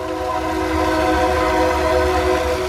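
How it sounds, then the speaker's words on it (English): A train rumbles close by while its horn sounds a steady, loud multi-tone blast throughout. "And look out, there's a train coming."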